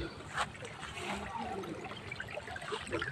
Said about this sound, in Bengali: এই দেখেন খুব জোরে পানি যাচ্ছে, মাছ নাই।